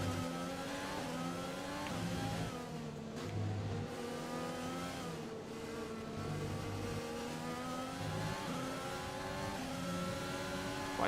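Formula 1 race car engines in the F1 2020 video game on the Hungary or Belgium circuit scream at high revs, rising and dropping through gear changes, loud and continuous with other cars audible nearby.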